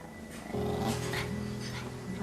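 A family dog growls low and steadily at someone reaching toward its bedridden owner, a close, sustained rumble lasting about two seconds.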